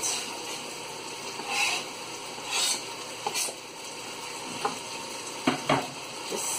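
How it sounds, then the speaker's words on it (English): Chopped fresh coriander and mint get stirred into chicken tandoori rice in a hot pan. A steady sizzle runs throughout, broken by several close scraping strokes of the spoon, and nobody speaks. "give that a mix"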